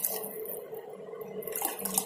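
Tamarind water pouring steadily into a hot pan, a continuous watery rush with some sizzle and splashing, close and moderately quiet.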